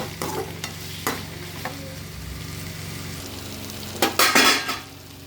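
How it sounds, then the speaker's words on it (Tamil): Tomatoes sautéing in a pan for tomato chutney, with scraping stirs and a soft sizzle over a steady low hum, then a louder burst of utensil clatter against the pan near the end. "தக்காளி போட போகிறோம். இப்போ இதையும் நம்ம நல்லா வதக்கிக்கிறோம்."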